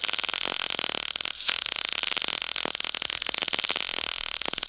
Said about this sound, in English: And that makes a different sound like this.